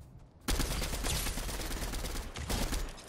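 Gunfire in the video game Fortnite: a dense, continuous burst of loud shots and crackling rattle starts abruptly after a brief quiet moment and keeps going to the end, with no voices.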